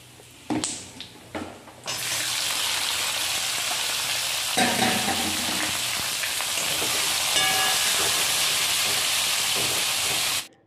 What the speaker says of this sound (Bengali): পেঁয়াজটা একটু লাল লাল করে ভাজার পরে